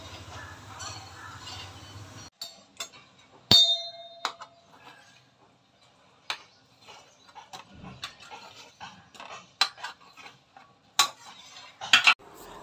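A spoon scrapes and clinks against an idli plate to loosen freshly steamed idli, giving sharp, irregular metallic clangs and taps up close after a brief stretch of low hum.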